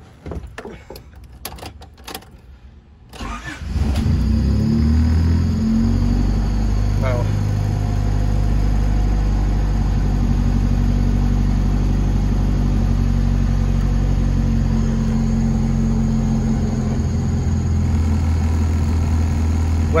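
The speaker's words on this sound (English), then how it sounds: "I'm gonna start the car and listen to the idle." A Honda Civic with an idle issue, adjusted at the idle screw, cranks to life after a few clicks and settles into a loud, steady, close-up engine idle that holds evenly to the end.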